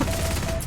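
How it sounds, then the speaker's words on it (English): A dense, continuous rattle of Maxim Tokarev machine gun suppressing fire in the shooter Heroes and Generals, loud and close across the whole brief moment. "Surprising amounts of suppressing fire."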